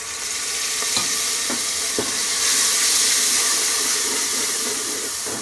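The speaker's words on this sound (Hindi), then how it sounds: "थोड़ा सा पानी डाल देंगे ताकि मसाले ना जले" Water is poured into ground spices such as turmeric, dried coriander powder and salt frying in a pan for dhaba-style chana dal, giving a steady close sizzle with a few light stirring clicks.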